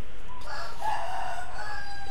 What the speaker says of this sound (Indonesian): Ayamnya berkokok terus ini.